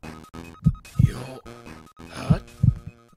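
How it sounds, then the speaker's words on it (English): Heartbeat sounds in a comic dub: four deep, heavy thumps spaced in two pairs, loud and close over a humming, tonal background. "What's that? My heartbeat?"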